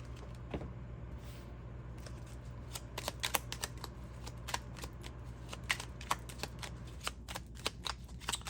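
Tarot cards shuffled by hand during a reading, a steady papery riffle with crisp flicks and snaps as cards slide and are drawn from the deck, close and moderately quiet over a low room hum, no talking.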